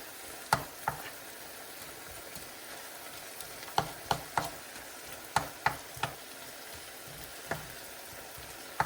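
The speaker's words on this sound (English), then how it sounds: "those veggies are already cooking really good" Vegetables cooking in a pan for cauliflower fried rice with shrimp, giving a quiet, steady sizzle broken by sharp clicks and taps of a utensil stirring against the pan.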